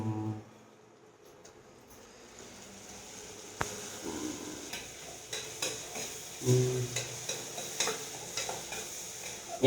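Fish curry simmers in a pan in a home kitchen as a Sunday special, with a soft sizzle under repeated scraping stirs and light clinks of a utensil against the pan, growing busier and louder after a quiet start.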